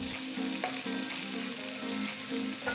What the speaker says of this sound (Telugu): తర్వాత చిన్నగా తరిగిన ఒక ఉల్లిపాయని కూడా వేసి వేయించాలి.